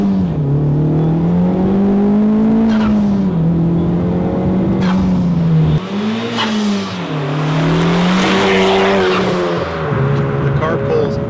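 A tuned 10th-generation Honda Civic Type R accelerates hard through the gears, its engine note climbing loudly and dropping at each upshift, heard from inside the car.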